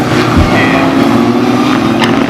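Historic Formula Ford 2000 race cars from the 2015 Croft Nostalgia Festival roar along the front straight, a loud continuous engine drone holding steady throughout with no pause.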